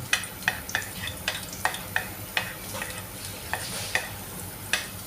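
Garlic sizzles and crackles in a hot pan, with regular scraping strokes of a spatula stirring it.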